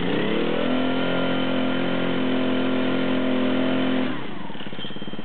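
Small propeller engine on a university competition rover, pull-started and then running with a steady loud drone for about four seconds before it dips to a lower, rougher idle, close by.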